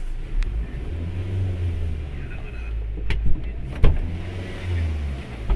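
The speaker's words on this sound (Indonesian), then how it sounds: "injak pedal gas." A Toyota Avanza engine rises from idle as the gas pedal is pressed, a low steady rumble swelling and settling, with a couple of sharp clicks or knocks partway through; close and fairly loud, with no talking.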